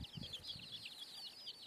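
Young chicks on a farm chirping and peeping in a continuous high, rapid twitter, faint and fairly close, with a few low soft clucks at the start.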